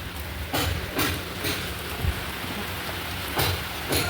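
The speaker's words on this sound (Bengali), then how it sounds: "ও বৃষ্টি নেমেছে" Steady rain pours down outside a home, a dense continuous hiss with a few louder gusts of heavier downpour, heard alone without voices.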